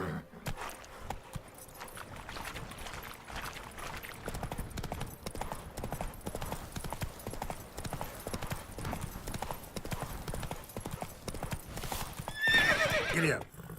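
A horse in the video game The Witcher 3 clip-clops along at a steady rhythmic pace, hoofbeats continuous under game sounds, with a brief whinny-like burst near the end.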